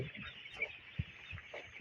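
Broiler chicks sick with pneumonia on a poultry farm give soft, intermittent clucks and peeps, faint and close, with no talking.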